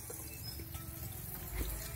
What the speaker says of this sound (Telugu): ఫ్రెష్ వాటర్ తో ఇలా కడగాలి.